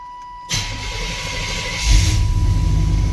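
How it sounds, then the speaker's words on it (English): The engine of a 1989 Chevrolet Silverado pickup truck cranks and catches on a cold start, then settles into a steady low idle before swelling into a louder rumble near the end. "a little cold start for you guys"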